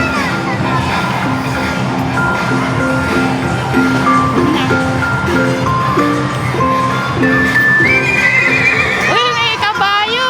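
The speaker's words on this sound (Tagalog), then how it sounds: "Uy, may kabayo." A horse neighs and whinnies loudly during children's playtime, with clip-clop hooves and a tinkling music-box tune in the background while children and an adult talk and shout throughout.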